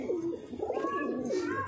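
Bajre Gandedar and Kalsare pigeons cooing, several soft throaty coos close by, overlapping in short rolling phrases.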